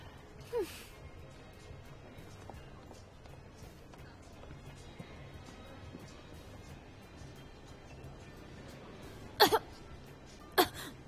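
A few sharp coughs stand out, one early and a cluster near the end, over a quiet, murmuring background.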